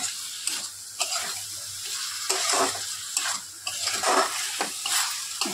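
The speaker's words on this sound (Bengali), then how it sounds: "ভালো করে কষাবো একটু।" Spicy masala for pulao being sautéed in a pan, with a spoon scraping and stirring in repeated bursts over a crackling sizzle, close and clear with no voices.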